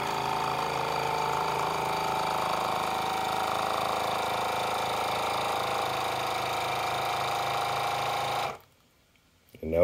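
A Geryon vacuum sealer pumps air out of a bag with a loud, steady motor drone for about eight seconds, then cuts off abruptly into near silence before a faint sound returns.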